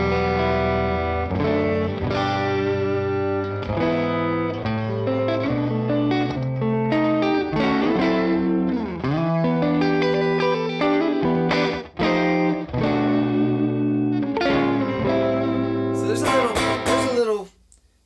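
A guitar played through a Foppstar Lil' Rae amp with a clean tone and a fast slapback delay, bright picked notes and chords ringing steadily for about seventeen seconds before cutting off abruptly.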